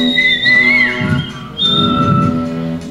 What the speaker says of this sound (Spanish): ¿Pero qué significa ese silbido, hombre?